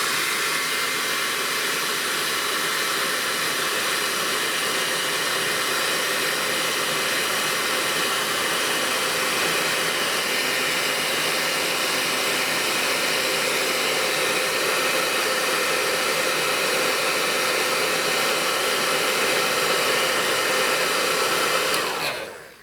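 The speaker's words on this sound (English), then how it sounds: "I've got a heat gun here, so I'm going to speed dry this." Heat gun blowing steadily to speed-dry a paint sample, a loud continuous roaring hiss that holds for over twenty seconds before cutting off at the end.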